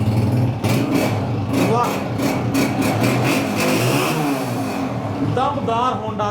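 A used Honda Deluxe 125 motorcycle engine revs in repeated bursts, rising and falling close by, while people talk and exclaim over it.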